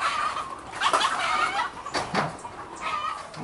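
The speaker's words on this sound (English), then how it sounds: "It's really a whole farm with exotic birds." Birds on an exotic bird farm call out in clucking, fowl-like squawks, several overlapping cries at moderate distance over a steady outdoor background.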